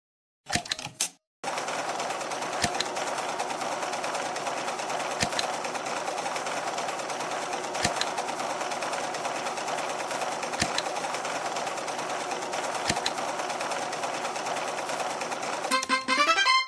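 A sewing machine stitching small winter clothes for a doll, a steady fast mechanical whirr held for about fifteen seconds after a few short starts, with faint periodic clicks throughout.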